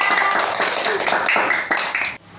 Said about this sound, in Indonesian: Tepuk tangan buat Mas Aska